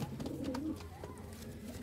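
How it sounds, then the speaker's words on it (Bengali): Malwai pigeons for sale give a low, soft cooing for about a second, with a steady background murmur after it. "কম পায়রা, খুব সুন্দর সুন্দর পায়রা।"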